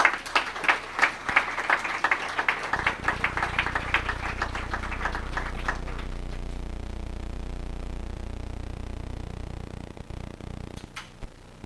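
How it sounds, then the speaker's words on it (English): Audience applause for Mayor Kennedy at a remembrance and reconciliation gathering, a burst of many hands clapping at moderate distance that fades out after a few seconds, leaving quiet room tone. "Let's give Mayor Kennedy a round of applause"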